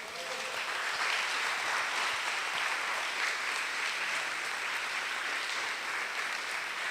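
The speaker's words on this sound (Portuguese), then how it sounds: "Dá um aplauso a Jesus." A church congregation claps in a sustained wash of applause, fairly distant and even, holding steady for the whole stretch.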